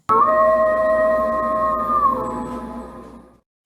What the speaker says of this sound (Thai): เสียงหมาหอนระงมไปทั้งหมู่บ้าน